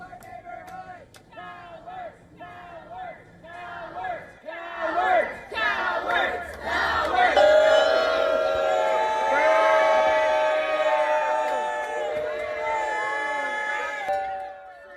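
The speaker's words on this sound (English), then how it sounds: "Protesters booed the authorities as teams of investigators walked out of a home with boxes following a search." A crowd of protesters in Washington, D.C. boos and jeers authorities during an FBI search of a home, scattered shouts building into a loud, sustained chorus of booing and yelling.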